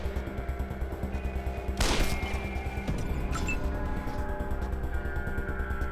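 A single firearm shot from a character in the post-apocalyptic tactical game Wasteland 2 cracks loudly over a rhythmic looping game soundtrack, with a fainter follow-up impact a moment later.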